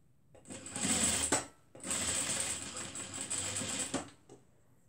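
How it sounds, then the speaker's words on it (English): A sewing machine stitches fabric in close, fast whirring runs, pausing briefly as the cloth is arranged before resuming, then stopping near the end. "I sew on that line."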